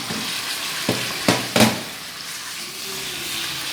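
Chicken frying in a karahi pan hisses with a continuous close sizzle, punctuated by a few sharp scraping stirs of the spoon before settling back to a softer fry.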